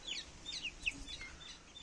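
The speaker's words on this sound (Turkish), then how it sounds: "kuluçka makinemizden çıkarmış olduğumuz civcivler" Incubator-hatched chicks peep in quick, high chirps that slide downward, several in a row at close range, over a quiet background with no talk.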